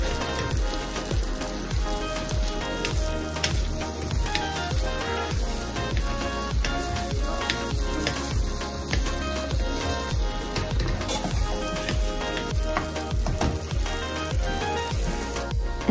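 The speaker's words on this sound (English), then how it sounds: "Now I'm going to add the mushrooms. Mix it all together." Mushrooms being stirred into a sizzling pan while making lobster pasta, a dense, loud, continuous crackling sizzle with frequent pops and stirring scrapes throughout, no talk.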